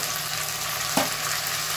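Minced keema frying with onion in a pan, a steady close hiss of sizzling throughout with one brief stir or scrape near the middle.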